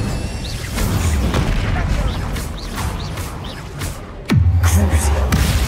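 Spells crack and boom one after another in the game Hogwarts Legacy, with a rapid string of sharp bursts and a heavier blast near the end that leaves a low, rumbling tail.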